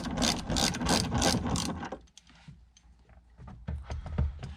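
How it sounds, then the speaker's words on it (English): A ratchet with a 14mm socket working the seat belt bolt on a Honda Fit's upper B-pillar, a rapid loud clicking burst for about two seconds, then quieter scattered clicks and handling noises nearby. "we're going to remove the seat belt using a 14mm socket"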